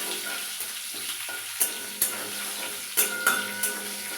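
Spices frying in a pan with green chilli for a vegetarian potato-paneer curry: a continuous soft sizzle broken by several sharp metallic clinks and scrapes of a spoon stirring against the pan.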